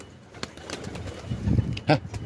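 Soft outdoor ambience with a bird's brief flutter and a low cooing call near the end, fairly close.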